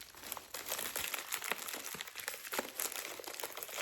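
Crinkly plastic packaging for craft supplies being opened, a continuous close rustling and crackling that carries on throughout with irregular sharp crackles.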